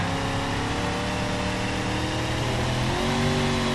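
An off-road car engine in the driving simulator BeamNG.drive, climbing high dunes in a desert, drones and revs continuously at a loud, close, throaty pitch with no voice over it.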